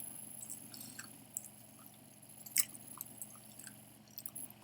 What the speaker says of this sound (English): Excuse my chewing